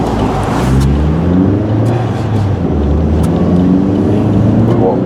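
A car engine that is still cold hums and revs while driving on a wet road, a loud low drone with tire hiss, and a person speaks over it.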